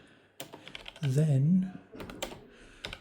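Keys clatter on a Zerowriter keyboard in quick, uneven clusters of close clicks, broken by a brief spoken word in the middle.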